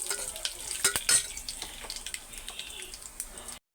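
Curry leaves and green chillies spluttering in hot oil for a drumstick-leaf dal while stirred, sharp crackles and pops early on settling into a steady close sizzle that cuts off abruptly at the end.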